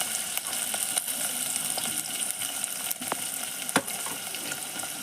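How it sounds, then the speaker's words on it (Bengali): Onions sizzling as they go into hot refined oil for a beef curry, a steady broadband frying hiss throughout with a few sharp spatters and crackles near the end. "এই যে এবার পেঁয়াজ দিচ্ছি, তেলেতে পেঁয়াজটা দিয়ে দিলাম।"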